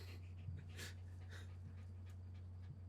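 A dog pants steadily and close by in quick rhythmic breaths, over a constant low hum, with no talking.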